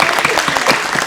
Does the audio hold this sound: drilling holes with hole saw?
no